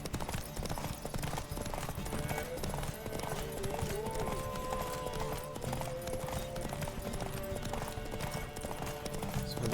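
A horse's hooves clip-clop in a steady, brisk rhythm in The Witcher 3: Wild Hunt, running continuously under layered game sounds and music.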